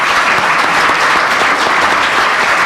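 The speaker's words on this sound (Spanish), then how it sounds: "fuerte el aplauso para el doctor Arturo Garita" Loud, dense applause from a seminar audience honoring Dr. Arturo Garita, a steady roar of many hands clapping without pause throughout.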